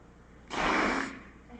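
A voice imitates a forced breath with one single sharp, loud exhale lasting about half a second, a harsh rushing burst of air heard close and alone.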